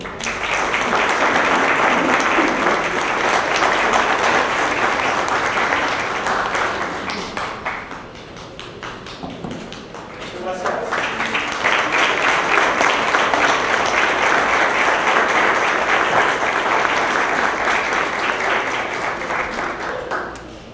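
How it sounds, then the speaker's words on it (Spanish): Loud, sustained applause from a large crowd at a formal agreement-signing ceremony in Mexico City, dipping briefly in the middle before swelling again and continuing to the end. "Brindémosles un fuerte aplauso."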